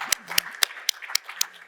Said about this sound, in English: big clap for that